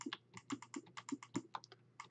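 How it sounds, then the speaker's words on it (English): A computer keyboard and mouse click close to the microphone, a crisp, irregular run of quick taps and clacks with no one talking. "Sorry if like my pressing my keyboard buttons and my mouse and stuff is really loud."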